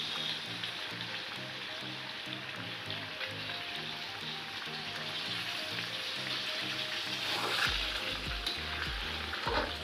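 Mango pickle sizzles steadily in a hot pan after a splash of vinegar goes in, a dense, crackling fry that grows slightly louder near the end, with faint stirring underneath and no voices.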